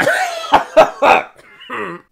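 A person coughs three times in short, harsh bursts, then makes a brief throaty vocal sound at the end.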